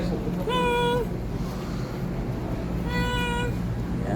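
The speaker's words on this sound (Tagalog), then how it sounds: "mga stray cats" Outdoors in Saudi Arabia, stray cats give two drawn-out, high meows a couple of seconds apart over steady wind noise.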